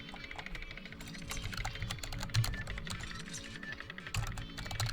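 Steady, fast typing on a computer keyboard clicks continuously at close range over a low hum, with no voices.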